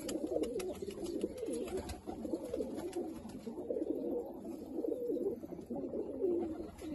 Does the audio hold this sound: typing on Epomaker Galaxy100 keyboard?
no